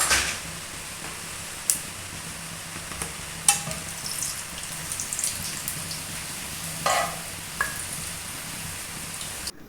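Garam masala frying in hot oil, giving a steady soft sizzle and crackle with a few sharp pops and stirring clicks scattered over it.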